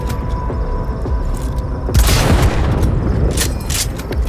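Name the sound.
grenade explosion in the video game Cyberpunk 2077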